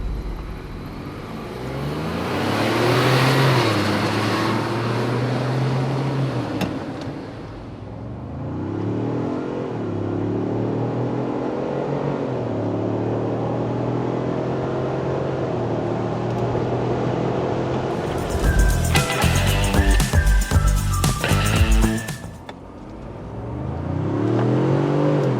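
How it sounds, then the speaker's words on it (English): Tuned Ford Bronco drives on the street, its engine droning and revving up and down in several pulls with a sharper mechanical burst near the end, loud and close with no talk. "Now it's time to get the Bronco off our dyno and out on the street for some driving impressions and some quick testing."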